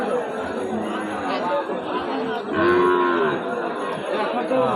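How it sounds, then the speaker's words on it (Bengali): Desi heifer cattle at a livestock market moo in several long, drawn-out calls, fairly close, with people chattering and talking around them throughout. "বকনা গরু"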